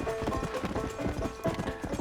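Wild horses galloping in the video game Red Dead Redemption, rapid rhythmic hoofbeats close and loud throughout, with game sounds mixed in.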